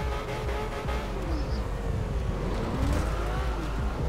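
Porsche Cayman GTS, styled like a GT4, racing in Forza Horizon 2, its engine droning loudly and repeatedly revving up through gear changes in a steady rising-and-falling pattern, with no talk.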